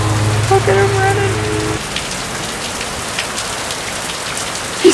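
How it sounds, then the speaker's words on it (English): Heavy rain from a 2016 storm pours down on surfaces in a dense, steady hiss that continues throughout, with a voice briefly heard at the start. "It was just a lot of rain, though."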